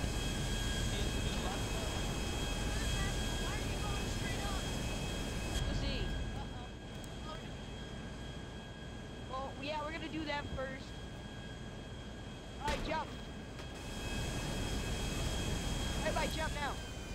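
An airplane flies with its landing gear still down in the video game GTA 5, its engine a constant drone beneath loud game noise and the voices of players talking over it.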